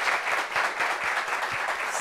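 A short burst of steady clapping from a small gathered audience, moderately quiet and even throughout, with no voices standing out.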